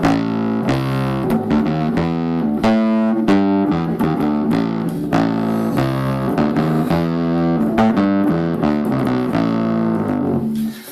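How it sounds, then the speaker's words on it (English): Electric guitar played through an Ashdown NM2 double distortion pedal on its second setting, drive at halfway: a loud run of chunky, sustained chords and notes with a gritty edge. "now we'll try the second distortion setting, again with the drive just halfway"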